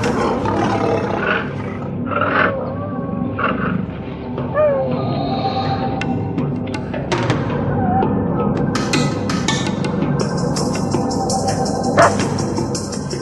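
Lions roaring in the wild, heard amid dense outdoor ambience with bird calls and other wildlife; the roars come as low, rumbling bursts under a busy natural background that runs through the whole stretch.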